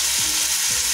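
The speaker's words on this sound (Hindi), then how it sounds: "मैंने सबसे पहले आलू डाले हैं, टमाटर मैं बाद में डालूंगी, थोड़े से आलू मेरे फ्राई हो जाएंगे।" Potatoes frying in a pan, a loud, dense and constant sizzle that stays close and unbroken throughout, with faint low scraping underneath.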